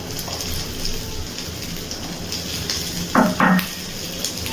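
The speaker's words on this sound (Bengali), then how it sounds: "ভেজে রাখা আলুগুলো দিয়ে দিচ্ছি। আর দিয়ে দিচ্ছি এক মুঠো মটরশুঁটি।" Fried potatoes and a handful of peas hit a pan of shrimp curry with kohlrabi, giving a steady hiss of sizzling oil and two short, louder bursts of spattering as they land, with no voices.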